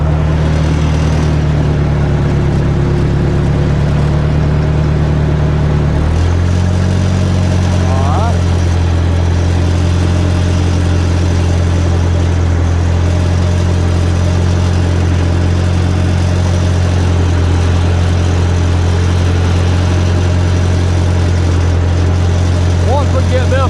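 A vehicle engine runs in first gear while making rows for hand planting, a loud, steady low drone throughout that shifts slightly in pitch about six seconds in.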